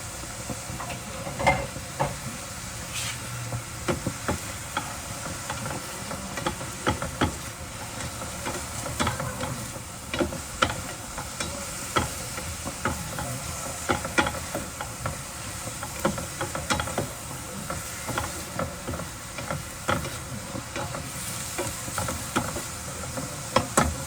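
Onions sauté in a pan at the start of a Filipino pork adobo, a soft continuous sizzle with occasional stirring scrapes and clicks, fairly quiet and steady throughout.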